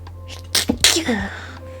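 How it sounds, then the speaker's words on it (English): A single sharp, close sneeze with a quick breathy intake before it, heard alone over a faint background hum. "I gotta sneeze."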